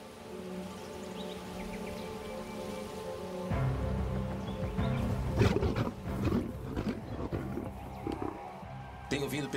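Lions roar in the African wild, deep, rumbling and close, in a series of heavy bursts over rain-like ambient noise, with a voice talking through it.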